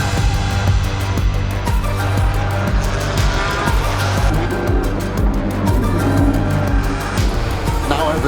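GT4 race cars launch into a race at Barcelona, their engines roaring loud and continuous as a dense pack, with layered revving, gear changes and a hint of tire squeal throughout.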